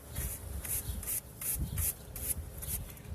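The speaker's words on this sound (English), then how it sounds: "Just got a bristle brush here. I just want to get the majority." A bristle brush scrubbing a WaterMaster 800 humidifier part, close rhythmic rasping strokes about three per second in an even back-and-forth pattern, with no voices.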